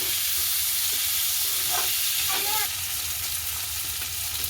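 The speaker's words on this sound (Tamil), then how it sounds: "வெங்காயம் சேர்ந்து இதோட ஒரு 2 நிமிஷம் நல்ல வடிவாக வதங்கி வரட்டும்" Onions sautéing in a pan as the base of a crab curry, with a dense steady sizzle throughout and a couple of brief stirring scrapes partway through.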